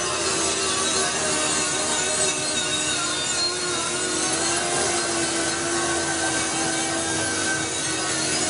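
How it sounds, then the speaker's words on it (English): A worker in a foundry finishing department grinds a cast electrical junction box, producing a continuous harsh abrasive rasp at moderate loudness with no speech. "is grinding one of the cast electrical junction boxes I talked about"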